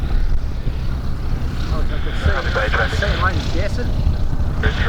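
A light aircraft with flaps down approaches to land at an airshow landing competition, its propeller engine droning steadily and loud throughout with warbling pitch changes, while a commentator talks over it.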